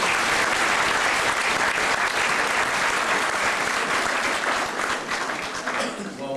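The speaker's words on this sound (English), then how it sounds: "Could you please give a round of applause to our next guest speaker?" Loud, steady applause from an audience welcoming a guest speaker at a Toronto charity event in 2004, dense clapping filling the whole stretch and tapering slightly at the end.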